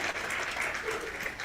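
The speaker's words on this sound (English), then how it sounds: "let's give a round of applause to Ms." Audience applause at a Women in Sport conference for a speaker, dense continuous clapping from a crowd heard close and steady across the short stretch, with no talk over it.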